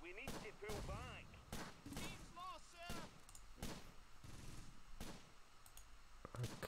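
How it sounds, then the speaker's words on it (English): Gunfire in the WWII tactics game Close Combat: Gateway to Caen, scattered sharp shots and short bursts popping at intervals amid battle ambience, with whistling and chirping effects and a voice talking over it. "Oh God, they're firing on them."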